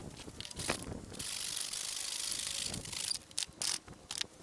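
A vinyl P-shaped dock bumper being cut by hand, giving a steady rasping, grinding cut in the middle with rougher scraping strokes before and after, close and fairly quiet.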